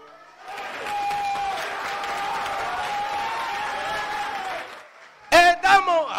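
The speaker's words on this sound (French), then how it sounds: "On l'applaudit!" Audience applause at a French stand-up comedy show, a sustained burst of clapping from the crowd lasting several seconds before fading, then the comedian resumes talking.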